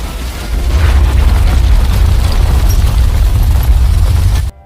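A heavy explosion from a charge planted below, in the 2014 live-action Lupin the 3rd film, rumbles as a sustained deep boom with dense low roar lasting several seconds before cutting off abruptly.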